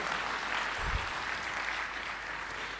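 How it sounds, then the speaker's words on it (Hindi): An audience at a Hindi poetry gathering claps in a steady, dense patter of applause from many hands, with a single low thump near the middle. "एक बार तालियां बजाकर पूरा सदन आदेशित करे"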